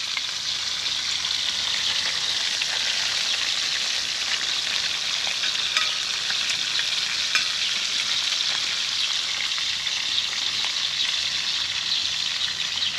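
Fish fries in a hot pan with a loud, continuous close-up sizzle and crackle that holds steady throughout, with no voices.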